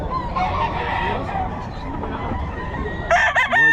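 A Golden Boy breed rooster, an early bird banded gamecock, crows loudly and close by near the end, its call rising over a busy background of other chickens clucking and general poultry noise.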